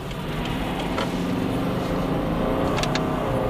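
A Subaru with a CVT transmission drives in manual mode, its engine a steady, moderately loud drone with road rumble throughout and a couple of brief higher whines near the end.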